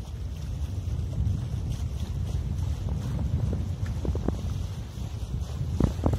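Wind rushes over a Multi 23 trimaran sailing in about 5 to 8 knots of wind on a cold November day, a steady close roar with faint creaks and splashes.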